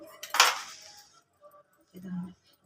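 Metal spoon clinking and scraping in a pot as jaggery is stirred until it melts for Ugadi pachadi, one bright clatter near the start followed by quieter scrapes and a brief low rumble.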